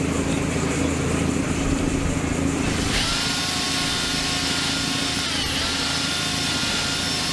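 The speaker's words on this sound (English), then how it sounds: "I can pull with the drill too." Power drill running steadily during engine reassembly on an International Farmall Super A tractor, a continuous close mechanical whir with broadband noise that shifts pitch slightly partway through, no talking.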